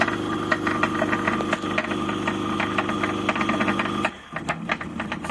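Motor of a 230 V sliding gate running with a steady mechanical hum and rattling clicks, then cutting off abruptly near the end as it brakes at the limit switch, leaving quieter residual noise.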